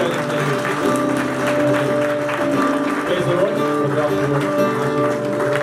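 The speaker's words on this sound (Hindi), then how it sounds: "आइए हम उसको ताली बजा लेते हैं।" Guests at a wedding ceremony clap together, the applause steady and moderately loud, mixed with a continuous tonal hum of music or drone and some crowd murmur underneath.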